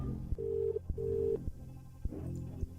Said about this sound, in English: It takes a few rings, but it does connect.